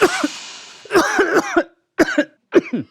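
A person coughs repeatedly in close, harsh bursts, a long wet fit followed by a few shorter separate coughs with brief silences between.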